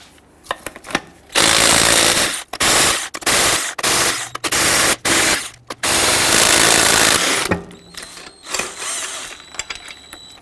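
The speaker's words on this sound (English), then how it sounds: "we're going to use a 22mm socket to loosen and remove these lug nuts." A 22mm socket on a power tool loosens and removes the wheel lug nuts of a 2007-2014 Cadillac Escalade, heard as loud repeated bursts of hammering impact noise separated by short pauses, followed by quieter clinking and handling sounds.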